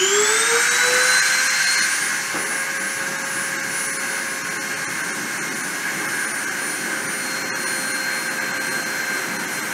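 A CNC spindle spins up and holds steady at 30,000 RPM, giving a loud, continuous high-pitched whine with sustained tonal harmonics and a faint hiss, with no voices.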